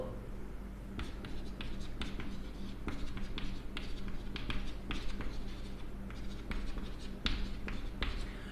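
Chalk or marker strokes on a board during a maths class, with steady, brisk tapping and scratching as numbers are written, close and fairly loud over a low room hum, with a faint voice now and then.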